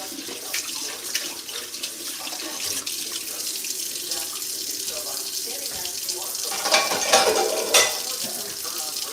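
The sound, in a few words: washing dishes in a sink with the tap running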